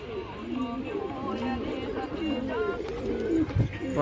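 Pigeons coo repeatedly in low, rolling phrases, close by, with a steady background of rustling and faint activity throughout.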